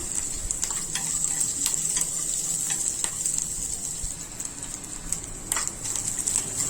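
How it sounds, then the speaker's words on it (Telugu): Fresh coconut pieces fry in ghee in a kadai with a steady, close sizzle and occasional crackles and stirring sounds throughout, no voices. "ఇదే కడాయిలో రెండు స్పూన్లు నెయ్యి వేసుకొని కొన్ని పచ్చి కొబ్బరి ముక్కలు కూడా వేయించుకుందాము"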